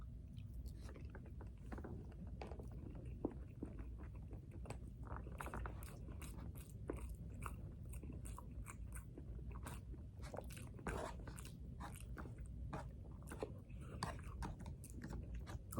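Someone eats alone in a hotel room, making close, steady chewing with repeated crisp crunches and bites throughout.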